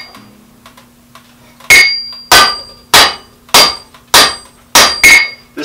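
Seven loud, ringing hammer blows on a red-hot steel axe drift being straightened at the forge, struck at a steady rhythm about every half second after a quiet start.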